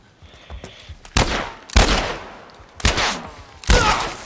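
Gunfire in The Last of Us video game, four loud sharp shots at uneven intervals, each ringing out briefly over a quiet background.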